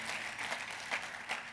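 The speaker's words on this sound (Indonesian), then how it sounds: "Boleh kita kasih tepuk tangannya yang paling meriah buat Tuhan kita." A church congregation applauds warmly during a sermon, a dense wash of clapping with a few louder swells, moderately distant and without speech.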